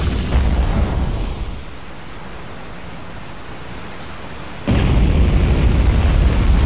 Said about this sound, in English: How could they survive that? An explosion like that?